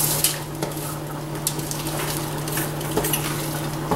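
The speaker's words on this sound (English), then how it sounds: "We'll go ahead and scrape them off in there." A utensil scrapes oven-roasted vegetables off a pan into a pot of roux. It gives soft, close scraping and clinking over a steady low sizzle and hum, with a few brief taps and no voices.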